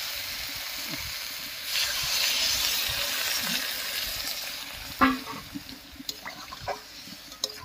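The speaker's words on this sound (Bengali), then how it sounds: "এবার জল দিয়ে দিচ্ছি।" Water poured into a pan of frying winter vegetables, setting off a surge of hissing sizzle that steadies and fades, followed by a few sharp stirring knocks near the end, with no talking.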